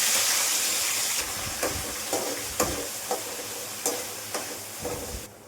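Sliced onions frying in hot oil in a home kitchen, a steady close sizzle with hiss, broken by several sharp stirring scrapes and clinks; no voices.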